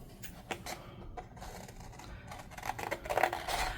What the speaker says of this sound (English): Let me grab it, and I'll just cut it out real quick.